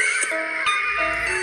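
A cartoon horse in a comedic Granny animation whinnies in short wavering bursts over a bright tonal music bed, close and fairly loud.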